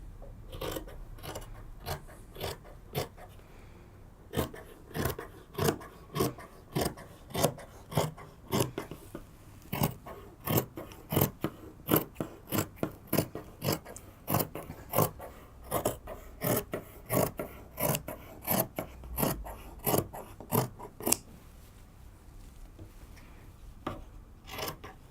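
Scissors cutting through sweatshirt fabric pieces, a close, regular series of crisp snipping strokes that repeats in rhythmic bursts, no talking.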